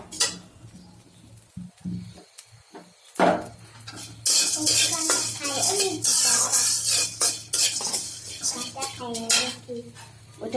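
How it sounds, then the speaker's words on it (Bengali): Rice being fried in a pan and stirred, with repeated scraping and clinking of a metal utensil against cookware and a soft sizzle underneath, loud and close, with a voice talking at times. "অল্প করে ভেজে নিচ্ছি, কারণ বেশি দিলে সুন্দর মতো হইতে চাইব না"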